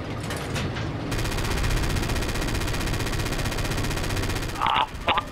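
Rapid automatic gunfire from a World War II shooter game, Forgotten Hope 2 on the Mount Olympus map, rattles on steadily at close range for several seconds, then breaks into a few sharper single bursts near the end.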